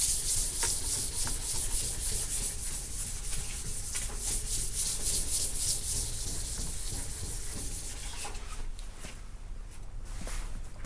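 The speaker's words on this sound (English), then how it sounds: "I'm just gonna use my hand just to scuff it up." A flat hand scuffs the bodywork of a custom roll pan on a Chevy Tahoe, making steady close rubbing strokes in a continuous rhythmic swish with no talking.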